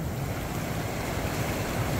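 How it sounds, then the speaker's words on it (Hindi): Strong rushing water at Panimur Waterfall in Assam, a steady, loud, broadband roar of fast flowing water that holds unbroken for the whole stretch, close by and with no talk. "पानी का बहाव काफी तेज है"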